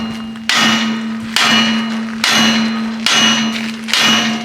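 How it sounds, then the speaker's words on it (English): A sledgehammer pounds stuck cultivator legs in five heavy, evenly spaced metallic blows close to the microphone, each ringing out briefly over a steady low hum. "I have to get a sledgehammer"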